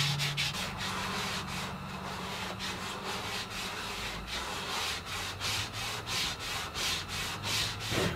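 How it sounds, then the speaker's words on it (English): Rhythmic back-and-forth scraping of sandpaper wrapped around a spray can on wood, steady repeated strokes, close and fairly quiet, with no talking. "I'm going to use some sandpaper wrapped around a spray can as kind of a makeshift sanding block"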